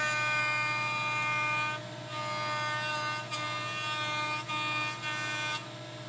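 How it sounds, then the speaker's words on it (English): Jointer squaring and flattening a face of a cherry bed post, a steady motor hum with high cutter harmonics and several brief dips as the board is fed across, close and moderate. "With the freshly edge jointed faces against the fence of the joiner, I'll square and flatten one adjoining face"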